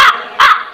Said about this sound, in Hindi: ये भाई कौआ बोल रहा है